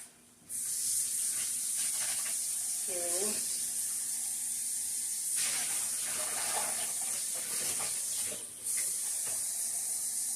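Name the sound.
water added to pan while cooking pasta sauce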